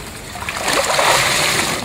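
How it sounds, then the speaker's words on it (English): Burlap sacks are dunked and soaked in water while preparing a hangi, a Māori earth-oven meal, giving a short, fairly close splashing and sloshing that builds over about two seconds with no talk. "soaking the sacks into the water"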